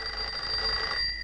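A telephone rings in the Mortadelo y Filemón video game El Armario del Tiempo, a steady electronic trill heard alone for just over a second.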